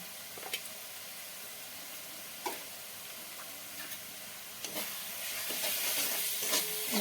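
Turmeric and chili spices fry in a pan while being stirred, a steady soft sizzle broken by a few light scrapes and taps, close and quiet, with no voices.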